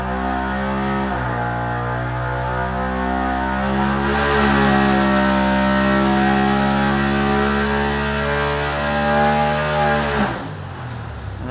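A Polaris XP Turbo UTV engine with a big turbo at 26 psi roars at high revs on a dyno, pitch holding steady then climbing before cutting off abruptly near the end.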